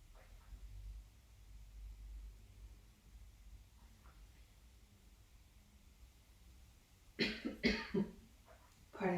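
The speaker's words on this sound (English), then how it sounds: "coughing can happen" A yoga teacher in a quiet class coughs in a brief, close cluster of sharp bursts near the end, after a stretch of soft room hush.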